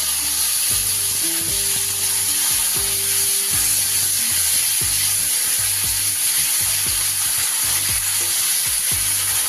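Turmeric sizzles in hot oil before onion paste goes in for a Bengali katla fish kalia, a loud, steady frying hiss with rhythmic clinks and scrapes of stirring throughout and no talk.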